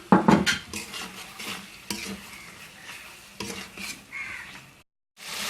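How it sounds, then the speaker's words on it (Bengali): Shrimp and spices stir-fried in a pan for a mashkalai dal, with steady close sizzling and repeated scraping, clattering strokes of a spatula against the pan, loud at first, then steadier, with a brief silent gap near the end and no talking. "এখন এগুলো সব একসাথে ভালো করে কষিয়ে নেব।"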